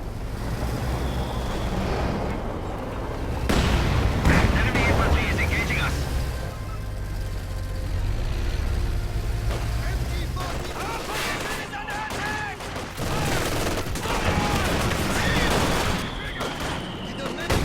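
Gunfire and shells striking a T-34 tank in a multiplayer tank video game: scattered shots and impacts over a continuous rumbling battlefield bed, with talk running throughout.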